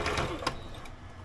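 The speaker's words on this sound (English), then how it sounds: "I'm just sort of stretching that ease in as I'm sewing around the cuffs" A sewing machine stitches around garment cuffs in a brief, soft run of rapid needle strokes, close and fairly quiet.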